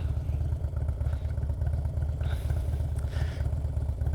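A motorcycle engine thrums steadily up close with a low, pulsing rumble while riding through city streets at night, joined by occasional brief hiss and clatter of passing traffic.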